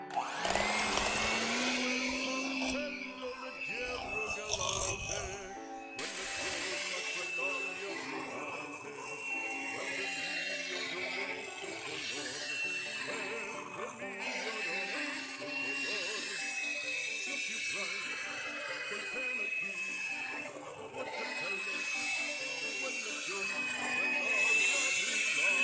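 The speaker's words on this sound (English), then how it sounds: "Back to the mixer." An electric mixer whirs continuously through ricotta cookie dough with eggs, producing a steady high motor hum with slight changes in pitch as it works.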